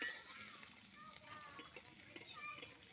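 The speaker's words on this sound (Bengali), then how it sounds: "এগুলো লাল লাল করে ভেজে নিচ্ছি।" Chillies, garlic and spices fry in a pan with a faint, even sizzle, broken by a few soft stirring scrapes and light utensil taps nearby.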